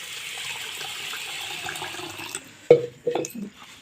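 Soaked lentils are rinsed in water, a soft continuous sloshing that gives way to a few louder splashes and pours near the end, close by, with no voices.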